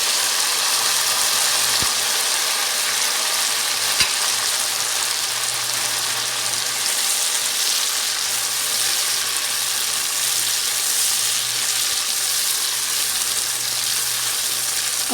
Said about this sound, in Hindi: ज़ीरा डालने के बाद फिर इसमें टमाटर डालूँगी,